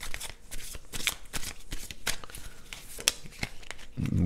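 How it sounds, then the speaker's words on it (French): Tarot cards shuffled and handled on a table, a close, steady run of crisp riffling and slapping card sounds with soft rustles throughout, ending with a brief low thump. "vais prendre une autre carte, enfin une ou deux cartes en plus"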